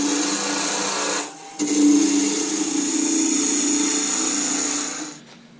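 A Delta 46-460 midi wood lathe runs with a piece of wood chucked, a steady whirring hum with a brief dip near the start, then constant until it winds down at the end.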